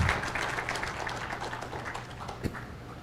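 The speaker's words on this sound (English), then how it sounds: "please give Pikar a round of applause" A conference audience applauding a speaker, a dense patter of many hands clapping steadily from a crowd in a hall, fairly loud with a sharper clap near the end.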